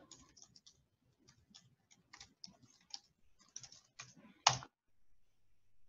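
A password is typed on a computer keyboard in a quiet room, heard as short bursts of close, light key clicks with small pauses between them and a louder final keystroke near the end.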